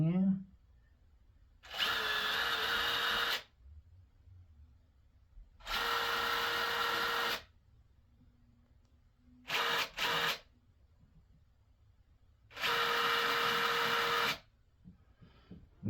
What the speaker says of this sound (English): the last and final drill bit that we're gonna go ahead and drill in